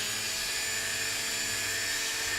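Steady, close abrasive hiss of 120 grit sandpaper worked over a replica Captain America shield for a smoother finish, a continuous broadband rasp with no pauses and no talking.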